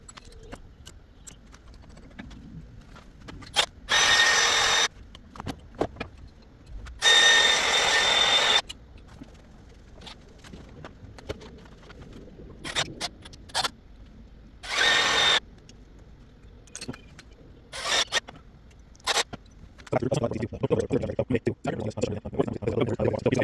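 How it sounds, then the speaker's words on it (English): Power drill bores holes through the metal of a Chevrolet Express van for a rear view camera install, in several loud bursts of whining, each a few seconds long, separated by quiet tapping, clicks and handling noise. "So I gotta center punch these and start drilling these out."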